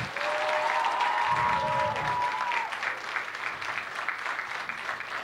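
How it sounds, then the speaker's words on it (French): A school talent-show audience applauds steadily, dense clapping at an even level, with a sustained musical tone or whistle rising over the top at first. "Un tonnerre d'applaudissements."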